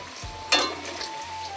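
Potatoes fry in a pan, browning to a reddish crisp, with a low steady sizzle and one brief sharp scrape or clink partway through, close and quiet without speech.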